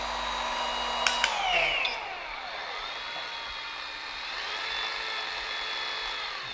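A FLEX 24V rotary car polisher runs at speed 1 with a steady, smooth high motor whine, after a couple of sharp clicks and a brief winding-down tone early on.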